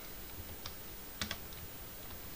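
Soft, scattered keystrokes on a computer keyboard while HTML is typed, a few light clicks with a tight double tap near the middle, faint against quiet room noise.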